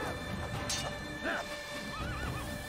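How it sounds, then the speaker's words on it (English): In the Assassin's Creed video game a horse whinnies in rising, wavering neighs while hooves clop and scuff beneath, with a brief crash near the start, all fairly close and clear. "I literally have to drop my horse? Bruh, get off the horse."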